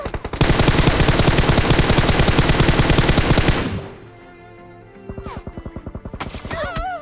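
Rapid automatic gunfire from the PUBG video game rattles loudly and continuously for several seconds, then drops away into scattered quieter shots and game sound effects.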